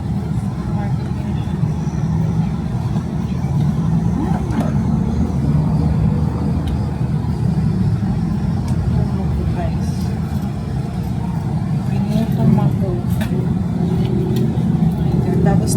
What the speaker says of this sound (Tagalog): Tapos traffic pa